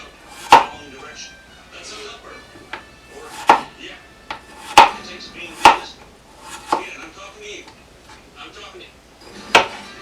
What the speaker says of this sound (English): we're just going to slice these up into fairly thin slices